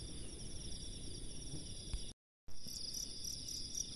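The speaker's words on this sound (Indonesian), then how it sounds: "kita tunggu jangkrik yang krik dulu ya" Crickets chirp in a rice field, a constant high-pitched outdoor drone, briefly cut to silence before resuming just as steadily.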